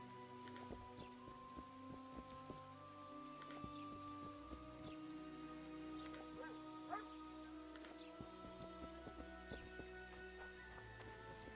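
Heavy rain in the video game Witcher 2: Assassins of Kings, a dense, even patter of drops on surfaces lasting throughout, with faint sustained music tones beneath and no voices.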